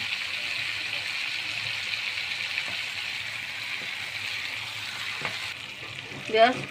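Dal with sauce frying in a pan on a raised flame, with a steady soft sizzle running throughout and a few faint stirring scrapes, heard at a moderate distance.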